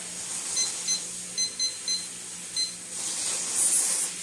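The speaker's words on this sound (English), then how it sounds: "I'm going to set a timer for" A kitchen timer being set for a stew gives a series of short, high electronic beeps in small irregular clusters, fairly close and clear over a quiet room hum, with no talking.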